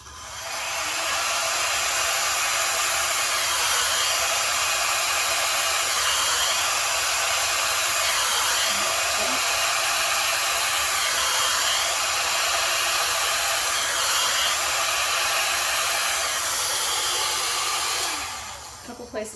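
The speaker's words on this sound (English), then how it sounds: "I just like to blow out my cell activator just a little bit before I hit it with the hairdryer" A hair dryer blows steadily and loudly on acrylic paint treated with cell activator, a constant close whooshing roar that runs nearly the whole time before cutting off near the end.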